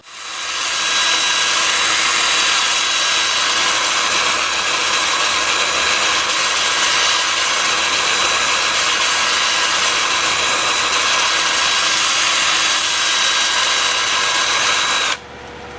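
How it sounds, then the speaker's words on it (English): A steady, loud whirring hiss of 80-grit abrasive paper rubbing hard Kamani wood on a lathe spinning in reverse at 240 RPM runs without a break, stopping abruptly near the end. "Yep, time for sanding."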